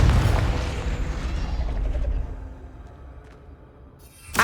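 Confringo fire spell explosion in Hogwarts Legacy, a loud deep boom with a rumbling tail that fades over a few seconds, ending in a sharp burst.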